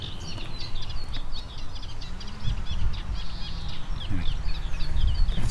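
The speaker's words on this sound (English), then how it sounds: "Lovely birds." Greenfinches and other small birds chirp and twitter from trees in an ecology park, bright scattered calls over a low outdoor rumble, fairly close and steady throughout.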